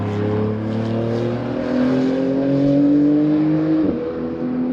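Chuck's race car at NOLA rounds out its second lap: a loud, steady engine drone whose pitch climbs gradually, with a brief shift dip near the end.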